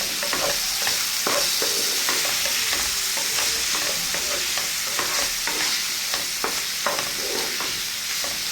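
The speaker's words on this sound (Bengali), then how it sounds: "মানে আরেকটু নেড়ে চেড়ে ভেজে নিব।" Mashed pumpkin with salt and chopped coriander is stir-fried in a pan, with a continuous sizzle broken by frequent rhythmic scrapes and taps of the spatula, close and fairly loud with no talking.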